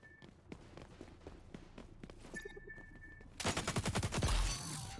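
An AK rifle fires in the XDefiant first-person shooter, with a few scattered shots early on, then a loud rapid burst of automatic fire near the end. The shots are close and loud, with no talking over them.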